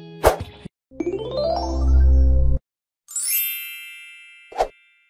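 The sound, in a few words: notification bell ding sound effect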